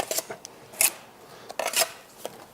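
A trowel scrapes excess mortar off a freshly laid red brick wall in a few short, sharp scrapes with pauses between them, close up and fairly quiet.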